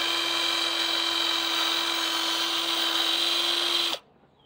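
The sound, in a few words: electric screwdriver with tire-valve tip removing glue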